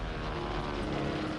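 Japanese warplane engine droning during the Pearl Harbor attack, a steady loud propeller roar filling the moment without speech.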